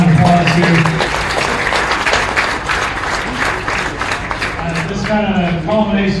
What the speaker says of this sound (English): Let's give all the kids that showed a Mark Animal a big round of applause here.